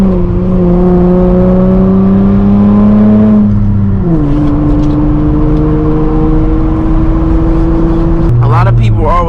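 A tuned 2008 Honda Accord with a 3.5L V6 revs loudly from inside the cabin, its engine tone climbing steadily, dropping on a shift and climbing again, with a talking voice now and then.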